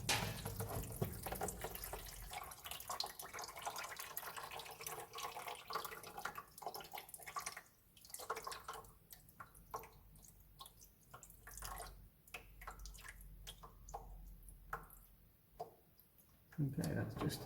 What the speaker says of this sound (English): Okay, that's just a few drips, so we can put this down underneath.